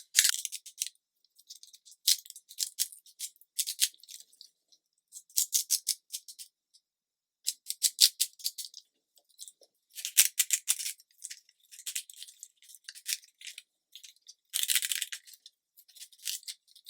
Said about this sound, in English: Just rip a piece and start pulling it off.